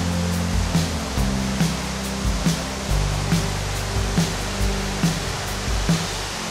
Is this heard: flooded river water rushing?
yes